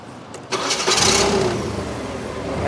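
A Nissan C6000 propane forklift engine cranks briefly and catches, settling into a steady mid-pitched idle close by, with no talk over it.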